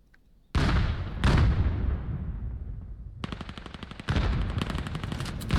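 Gunfire from a competitive 5v5 video game match: two loud single shots with long decaying echoes, then rapid automatic bursts rattling close and loud.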